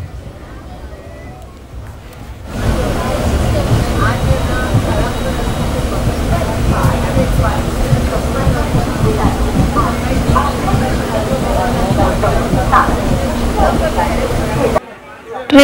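The Janshatabdi Express from Ratnagiri to Thane rolls into Chiplun station, a steady low rumble of the slowing train filling the carriage while people chatter in the background.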